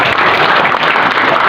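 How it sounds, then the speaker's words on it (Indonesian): Congregation applause during a church wedding blessing ceremony, a loud, dense burst of hand clapping filling the space briefly and evenly. "Kita berikan tepuk tangan."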